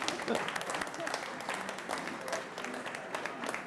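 Wedding guests clap after a best man's speech, a dense continuous patter of applause in a room, with voices mingling underneath.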